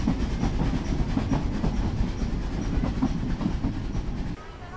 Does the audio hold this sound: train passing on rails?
yes